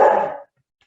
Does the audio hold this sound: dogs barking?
yes